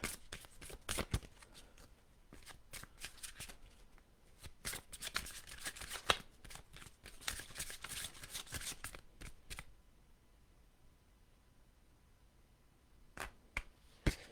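Tarot cards being shuffled by hand make crisp riffling bursts and quick flicks in irregular clusters, close and fairly quiet, with pauses between rounds.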